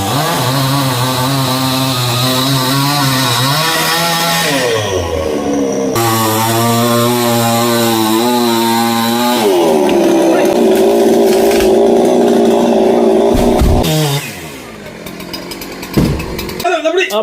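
A chainsaw cuts down a high-risk tree, its engine loud and close, revving and bogging in long pulls before dropping off near the end, with a voice talking over the noise.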